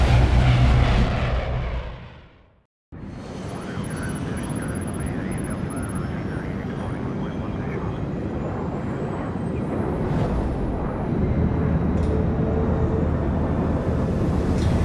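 A steady, broad engine roar fills the cabin of an airplane in flight in the stealth video game Splinter Cell Blacklist. A brief dropout near the start breaks it, then the drone runs on evenly to the end with no talk.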